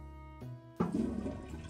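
A toilet flushing in the Toilet Flushing Simulator video game, a tonal game sound giving way at the midpoint to a sudden loud rushing swirl of water, close and clear.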